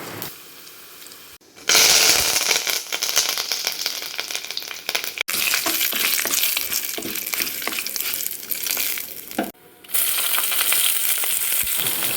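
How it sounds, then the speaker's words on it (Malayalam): Urad dal, dried red chilies and curry leaves fry in hot oil for a Kerala-style pathila thoran tempering. A loud, dense sizzle bursts in after a quiet start, crackles steadily with spattering pops, cuts out briefly twice and then resumes. "ശേഷം വറ്റൽമുളകും കറിവേപ്പിലയും ഒക്കെ ഇട്ട് കൊടുക്കാം."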